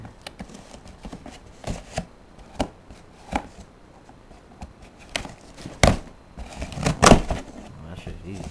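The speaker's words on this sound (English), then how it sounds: "Got the box cutter. Let's cut him open." A box cutter slices open a cardboard package holding a 4 gauge SoundQuest amp kit, heard as a series of sharp, close cutting and tearing scrapes in uneven bursts, louder toward the end, with some talking.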